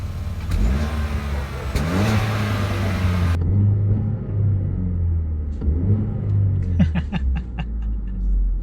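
A 2017 Chevrolet Cruze hatchback with a manual transmission idles with a steady low engine rumble, then cranks and settles into running, with a few clicks from inside the car near the end.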